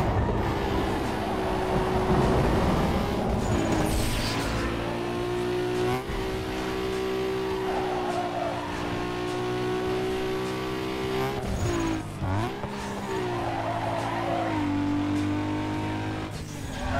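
Racing-car engine sounds from the video game Need for Speed Underground 2, a steady high engine drone with shifting pitch as the car accelerates and changes gear, continuous and fairly loud throughout.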